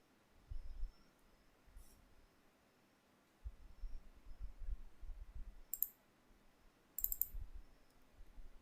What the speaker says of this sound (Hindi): डबल क्लिक करेंगे और सिंबल पे जाएंगे